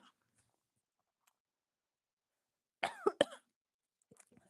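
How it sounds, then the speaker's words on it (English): A man coughs in a short, harsh burst of two or three coughs, close and loud, after near silence, followed by a faint throat noise. "I get coughing"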